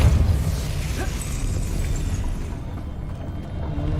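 A Depulso force spell cast in the Hogwarts Legacy video game gives a low booming burst at the start that fades into a rumbling game soundscape.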